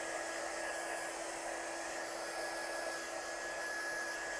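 A heat gun blows a steady, even whoosh with a thin whine over ink on a handmade card, constant and close throughout with no talking.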